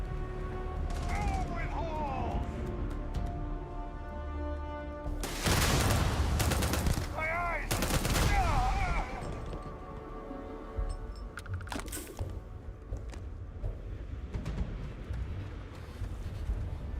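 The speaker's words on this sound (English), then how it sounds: "Somebody's cackling at me as they chuck a grenade in my direction." Gunfire and a grenade explosion in the video game Starfield, with loud blasts and bursts of shots around the middle of the clip over a steady game soundscape of tones and background noise.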